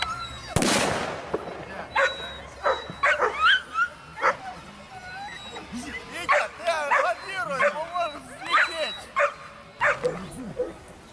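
A sharp firecracker bang goes off early at an outdoor dog competition in Smila, followed by dogs barking, yipping and whining in quick repeated bursts close by.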